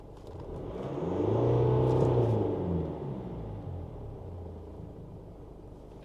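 A 2018 Mercedes GLC220d 4MATIC diesel accelerates on a test drive, its engine swelling to a muffled rumbling whir that peaks briefly and then settles back to a quieter cabin drone.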